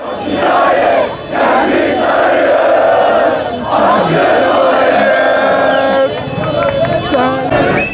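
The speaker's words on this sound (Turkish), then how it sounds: "Sarı kırmızılı taraftarlar ellerinde meşale, bayraklar ve tezahüratlarda şehir merkezinde olan Sümer Meydanı'nda şampiyonluğunu kutladı." Galatasaray supporters celebrating a championship in the streets of Adıyaman with flares and flags, a dense crowd roar and chanting filling the whole stretch, loud and continuous with brief dips.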